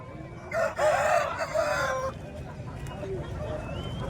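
A rooster crows up close at a busy hen market in Bhadradri Kothagudem, one strained, wavering call standing out over the steady murmur of chickens and market noise.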